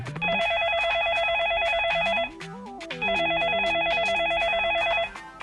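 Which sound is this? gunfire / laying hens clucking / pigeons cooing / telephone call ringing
telephone call ringing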